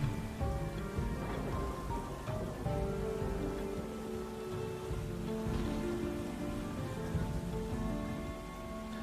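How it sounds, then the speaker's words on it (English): Steady rainstorm in the video game Windbound, a dense hiss of rain on surfaces with faint low rumbling and soft tonal game music underneath, continuous and moderately quiet. "The storm is still here."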